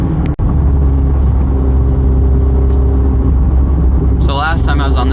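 A McLaren 750S supercar drives along a road, its engine a steady low rumble with a continuous whir, and a voice starts talking near the end.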